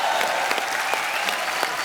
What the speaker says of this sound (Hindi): एक बार यूवी बाजी के लिए जोरदार तालियां।